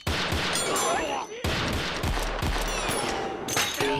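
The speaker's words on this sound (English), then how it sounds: "Jigen had no choice but to fire and rescue Lupin" Rapid anime gunfire from gold revolvers, a dense fusillade of overlapping shots with sharp cracks and heavy low thumps, loud and continuous with a brief dip midway before resuming.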